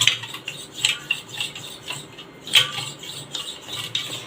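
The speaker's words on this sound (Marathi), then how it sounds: "रवीच्या सहाय्याने आपण साखर दही आणि हे आईस क्यूब एकत्र करून घेऊया दही चांगलं फेटून घेऊया" A wooden churner whisks yogurt, sugar and ice cubes in a bowl with rapid rhythmic clatter and scraping, ice knocking against the sides in repeated bursts.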